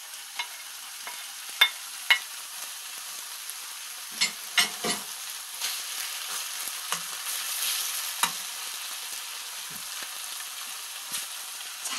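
Chicken breast and red and yellow paprika stir-fry in a hot pan, giving a steady close sizzle broken by scattered clanks and scrapes of the stirring utensil.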